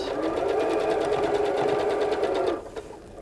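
A sewing machine stitching a Christmas stocking runs in a steady, close, loud whir for about two and a half seconds, then stops abruptly, leaving a faint hum.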